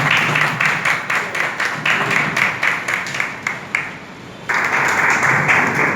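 Audience applause at a welcome ceremony, a steady wash of many hands clapping with rhythmic surges, briefly dipping before picking up again loudly.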